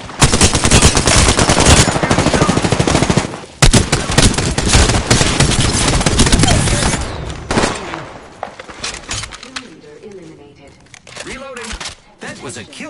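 Rapid automatic gunfire in the Apex Legends video game, with dense, loud bursts of shots that thin out into scattered single shots, while a player talks over the action.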